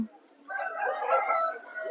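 A seven-month-old rooster at a Vijayawada poultry market gives a short, moderately loud call lasting about a second and a half, close by, with faint background voices.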